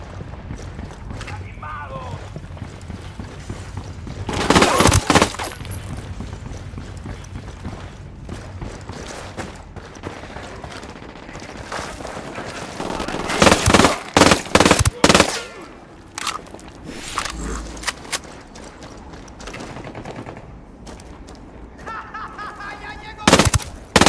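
Gunfire in the Ghost Recon Wildlands video game: scattered bursts of automatic fire and single shots, loud and close at moments, over a steady ambient bed with some voices.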